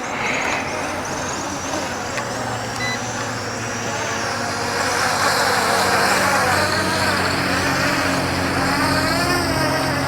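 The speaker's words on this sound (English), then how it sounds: "Now I'm gonna shut the motors off by holding this down." HolyStone HS720R 3-axis 4K camera drone with its motors left spinning, a steady high-pitched whine that rises and grows louder midway, with a low droning hum underneath and a person talking.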